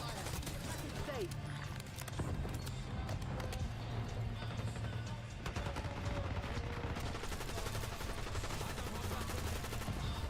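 Dense, continuous gunfire and bursts of automatic weapons fill a Call of Duty Black Ops 6 battle, mixed with clatter and voices talking over the fighting.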